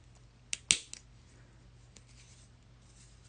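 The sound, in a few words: cutting with scissors in mixed media crafting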